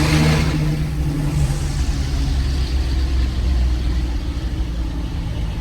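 Diesel truck engine fitted with a BDDiesel S364.5 turbo kit revs up loudly, then settles into a deep, steady rumble with turbo whine, heard close and without talk.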